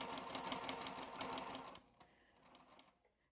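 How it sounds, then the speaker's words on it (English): A domestic sewing machine stitches along the edge of fabric for a handmade Christmas gift, running steadily and close for under two seconds before stopping, leaving only faint light handling noises. "So now I'm just going to sew along the edge"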